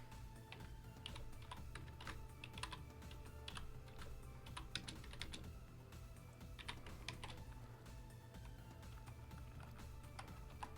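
Rapid clattering keystrokes on a computer keyboard as code is typed, bursts of quick taps with short pauses between, close and fairly quiet over a low background hum.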